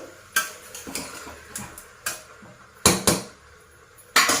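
A spoon mixes two spoonfuls of onion, ginger and garlic paste in a pan, giving a string of sharp metallic scrapes and clanks at uneven intervals over a faint sizzle, close up, with no voices.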